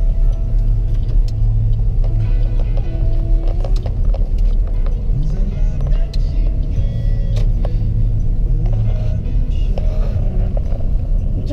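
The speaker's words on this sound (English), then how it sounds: "It's a tricycle." Steady loud engine drone and road rumble from riding in a motorized tricycle in the Philippines, a continuous close mechanical hum with no talking.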